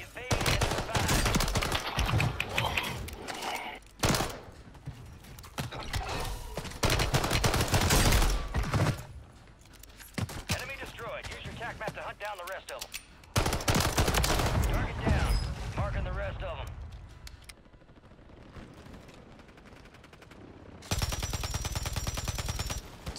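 A light machine gun fires in Warzone 3 in loud rapid bursts of automatic gunfire broken by short pauses, with a player talking at times between and over the shots.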